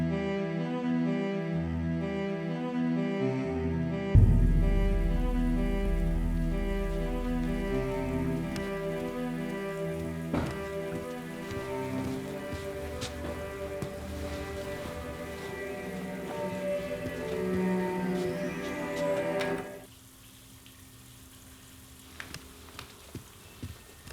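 Steady hiss of a running shower fills the space, continuous and fairly loud, with a tonal hum underneath, then cuts off abruptly near the end, leaving quiet with a few small clicks.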